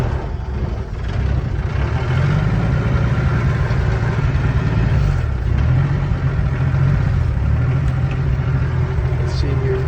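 An all-original 1960 Willys pickup engine idles with a steady, rough low rumble close by before it stalls; someone speaks briefly over it.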